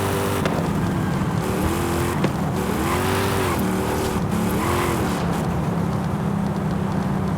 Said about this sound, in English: This car is too old for this kind of driving!